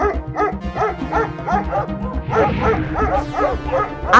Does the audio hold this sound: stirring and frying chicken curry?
no